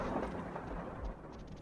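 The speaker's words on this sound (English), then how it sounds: "Look at this rain!" Heavy rain pours outside with a low thunder rumble under it, a steady and faint wash of sound with no talk.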